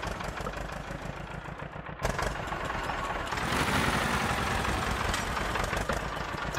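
A tractor engine in an Indian tractor video game runs steadily with a rough, knocking idle, growing slightly louder and fuller partway through, with no talking over it.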